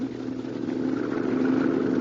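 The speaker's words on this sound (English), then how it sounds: "You're pretty good at handling this boat, Mrs. Crane." A motorboat engine runs at a steady, even drone as the boat heads across the water toward an island, a continuous mid-pitched hum that swells slightly louder toward the end with no voices over it.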